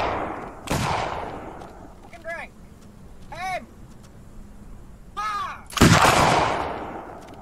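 Musket-style gunfire in the Napoleonic Wars mod of Arma 3: a few sharp, loud shots with echoing tails, spaced apart, over a steady ambient background, while players speak in between.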